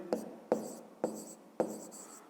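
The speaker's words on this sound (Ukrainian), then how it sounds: "Ну і тепер пишемо третя дія" Pen strokes on paper while working a fifth-grade math exercise, four short scratchy bursts spaced about half a second apart, close and quiet with no talking.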